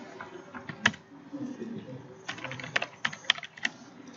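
Keystrokes on a computer keyboard entering input into a Python program, a short burst of clicks followed by several sharper, spaced taps, close and fairly quiet with faint room noise.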